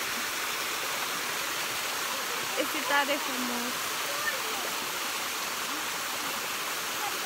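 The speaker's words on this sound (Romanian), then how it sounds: "am ajuns la cascada Brucnița" Beușnița waterfall in the Nera Gorges, Romania, pours as a steady broadband rush that fills the whole clip at moderate level, with a brief spoken remark partway through.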